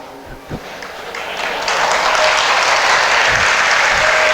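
Applause from an audience at a Hindi sermon by Acharya Vidyasagar, building from sparse claps into steady, loud clapping that fills the hall and continues to the end.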